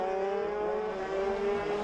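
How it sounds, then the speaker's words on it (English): A MiniGP70 racing motorcycle on a circuit's home straight revs hard in a sustained, high, buzzing engine whine that holds steady and loud throughout. "has got the better of Jay Abel, who is revving the thing as he comes down the home straight"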